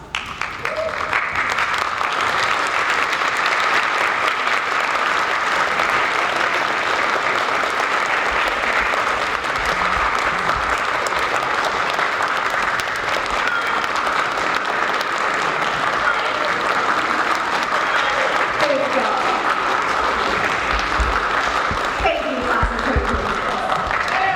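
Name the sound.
audience applauding at graduation ceremony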